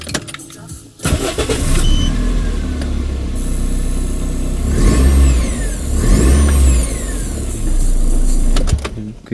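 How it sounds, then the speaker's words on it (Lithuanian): A Toyota Starlet car engine starts after a brief pause and runs loud and close, with two strong revs rising and falling in the middle before settling back toward idle. "Bet jeigu užvedam variklį"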